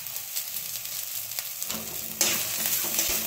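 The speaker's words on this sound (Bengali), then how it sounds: "পেঁয়াজটা 40 সেকেন্ডের মধ্যে নেড়ে নেবো।" Chopped onions and capsicum stir-frying in a pan over low to medium flame, a close crackling sizzle with scraping stirs that swells louder midway as the pieces are tossed.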